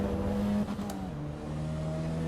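Racing car engine in Assetto Corsa EVO revving hard as turbo boost builds, a loud sustained drone with the pitch climbing and shifting, heard alone without talk.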